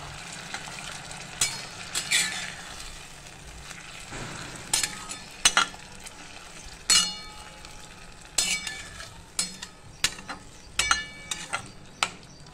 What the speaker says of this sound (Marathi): आता पुन्हा एकदा आपण उलटण्याने फिरवून घेणार आहे